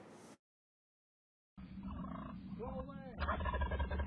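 Wild turkeys gobble and call in a bold flock confronting a mail carrier in Massachusetts, a brief cut-off noise then after a silence a close burst of warbling gobbles over a low rumble, growing louder toward the end.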